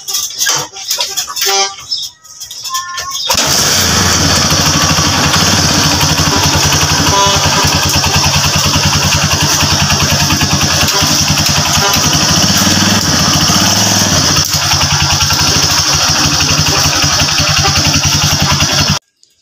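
A Kawasaki Barako motorcycle, freshly repaired after misfiring, with a new coil and battery, is kicked and started. It catches and settles into a loud, steady single-cylinder idle close by that runs unbroken for about fifteen seconds.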